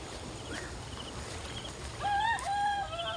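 A rooster crows once at moderate distance, a bright rising call over a faint steady background hiss.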